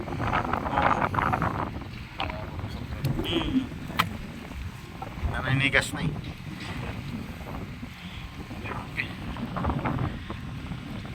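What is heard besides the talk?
strong wind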